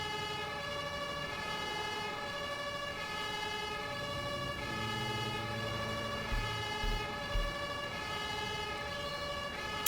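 Fire engine sirens wail continuously in the Emergency 5 game set in Hamburg, a steady layered tone held loud for the whole stretch, with a low engine rumble and a few soft thumps near the end.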